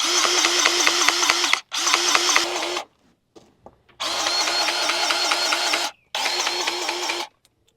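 A DeWalt cordless grease gun pumping grease into excavator fittings, a rapid mechanical ratcheting whir in four bursts separated by short pauses, close and loud.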